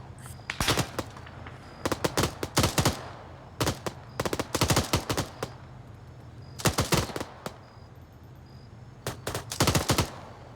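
Bursts of gunfire from a military shooter game during a joint operation, with rapid automatic volleys and single shots cracking in irregular clusters over a steady low background hum, repeated throughout.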